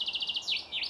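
A small bird sings close by in a natural outdoor setting, a rapid series of bright repeated chirps followed by a couple of sweeping whistled notes, all within about a second.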